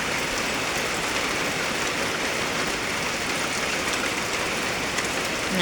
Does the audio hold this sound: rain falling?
yes